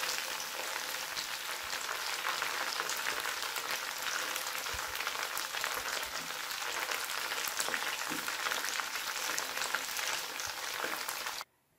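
Milk cream cooking down into desi ghee in a pan gives a steady, dense sizzle and crackle of frying fat, close and continuous, then cuts off abruptly at the end.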